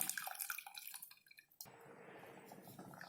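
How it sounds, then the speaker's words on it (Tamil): Milk poured into a pan of semiya for paal payasam, a steady liquid stream with splashing that starts abruptly after soft dripping and clinking, continuing at an even level to the end, with no talk. "இப்போ இதில் நம்ம பாலை ஊற்றிடலாம்"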